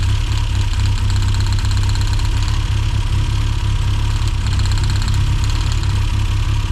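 A rare John Cooper S Sport 5 idles roughly up close, a loud, steady low engine drone with an uneven, pulsing beat and no voices.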